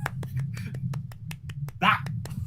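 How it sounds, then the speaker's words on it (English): A person clapping hands in a sharp, regular rhythm of about a dozen crisp claps, close and fairly loud, with a low hum beneath and a brief voice breaking in near the end. "I'm clapping."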